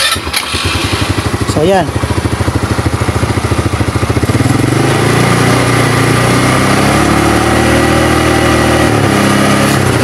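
A motorcycle with a previously burnt rectifier socket cranks, fires up, and settles into a loud, close, steady putter that gently rises as it revs, while someone speaks briefly at the start.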